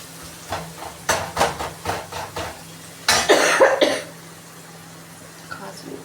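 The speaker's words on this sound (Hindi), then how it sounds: "खांसी हो गई।" A person coughs in two close bouts: a run of short coughs, then a harsher, longer fit, with quiet in between.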